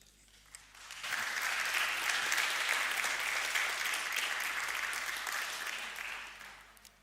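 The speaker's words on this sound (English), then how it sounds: "So please, a warm applause, Hidde de Vries." Warm applause from a conference audience welcoming a speaker on accessibility: after a quiet second, many hands break into steady clapping that holds, then gradually softens.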